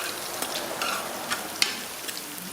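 Scallion, pimento and black pepper sauté in a hot pan, giving a steady close sizzle and fry hiss with a few soft stirring scrapes and taps, no voices.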